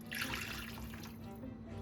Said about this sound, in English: The original recipe calls for 3 cups of water. I'm going to put the 3 cups in.